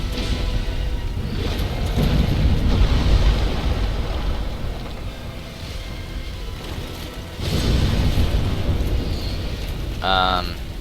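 A boss's butt-slam explosion in Dark Souls: heavy rumbling blasts surge in around the second and seventh seconds over a continuous roar of game noise.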